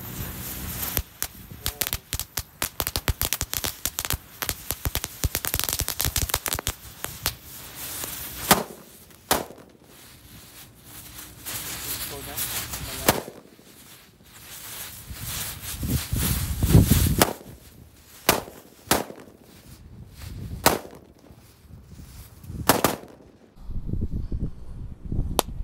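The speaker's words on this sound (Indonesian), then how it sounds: "Selanjutnya kita nyalakan 3 pak mercon Disco Labrador atau mercon Happy Flower warna merah bosku." Disco Labrador firecrackers, also called Happy Flower, set off three packs at once, popping in a dense crackling barrage that thins into scattered sharp bangs, fairly distant.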